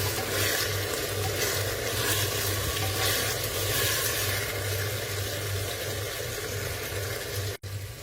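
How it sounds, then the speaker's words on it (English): Spiced rice for Maharashtrian masale bhaat is stirred in a pan with chili powder, producing a continuous close sizzle and scraping, with a low steady hum underneath. "Now again mix it well."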